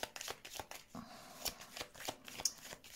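Tarot cards are shuffled by hand in quick riffling bursts, several crisp close flutters in a row with no talk.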